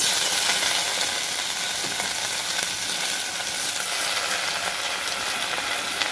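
Washed gongura leaves fry in a tablespoon of oil in a bowl, giving a constant, close, loud sizzle and crackle that holds evenly with no voices.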